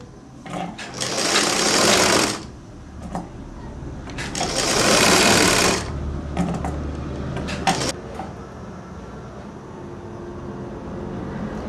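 A sewing machine stitches a katori blouse seam in two long rapid bursts, then a few short runs, with quieter handling and pauses between them, close and clear.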